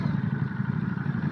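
Engine of a 2022 Ducati Monster motorcycle, a steady low throbbing rumble heard up close, moderately loud and alone without talk.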